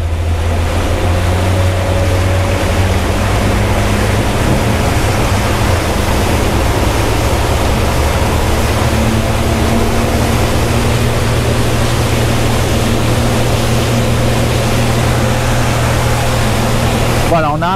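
An Axopar 22 T-Top motorboat (2022) runs on open water with a loud, steady engine drone and rushing hull and wind noise, building gradually as it accelerates, with no clear voices.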